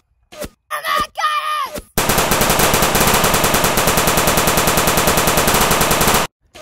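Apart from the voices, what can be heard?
gunfire in WW2 short film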